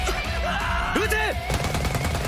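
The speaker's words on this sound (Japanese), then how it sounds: "ライジャー撃て。" A voice calls out in an animated scene, followed by a quick volley of rapid automatic gunfire that rattles on to the end.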